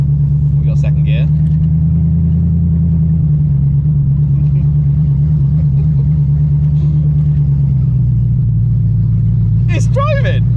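Engine of a BMW E36 running in second gear, a steady close low drone holding pitch before dropping slightly near the end, with brief bursts of excited voices at the start and finish.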